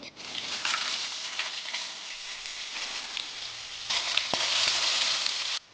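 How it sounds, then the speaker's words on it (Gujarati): Steady crackling sizzle of hot tempering oil hitting dal, loud and continuous, swelling louder near the end with a brief clink. "આ વઘારને આપણે દાળમાં એડ કરી લેવાનો છે"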